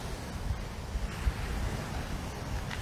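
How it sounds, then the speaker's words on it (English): Ocean waves breaking off the cliffs at Long Beach, heard at daybreak as a steady broadband wash of surf with wind buffeting the microphone and a few soft surges. "you will find waves breaking a good maybe 10 yards, 15 yards off of this cliff area here"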